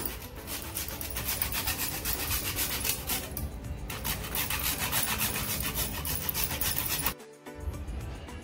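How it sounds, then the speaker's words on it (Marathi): Nutmeg is scraped against a grater in quick, even strokes of dry rasping, with a short pause near the end, close and clear and free of talk, as it goes into milk for kharvas. "थोडं जायफळ किसून टाकूया"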